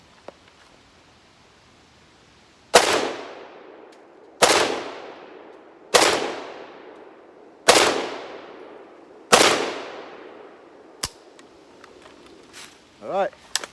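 A Riley Defense RAK-47-P rifle fires five sharp, loud single shots spaced about one and a half seconds apart at a target outdoors, each followed by a decaying echo. A quieter click and rustle come after.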